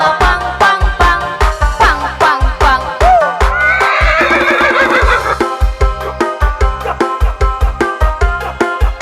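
A horse neighs and whinnies within a loud Cambodian song, layered over a steady clip-clop beat and music, the whinny rising clearly midway.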